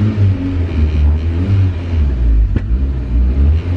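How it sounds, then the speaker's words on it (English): A boosted Datsun 280Z making 350 horsepower revs loudly up close, a deep, rumbling engine note that swells and drops over a few seconds, with a sharp pop midway. "This thing makes 350 horsepower, boosted, and this is probably the craziest car that I've ever heard."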